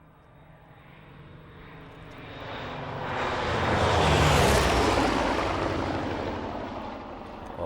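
A Corsair fighter plane's piston engine roars past, rising from a distant drone to a loud, rushing peak midway and then fading slightly as it moves away, with no voices.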